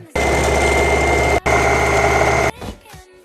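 A sewing machine stitching a dress runs in a loud, close, steady motor whir for about a second, stops briefly, then runs again for another second before falling quiet with light handling noises.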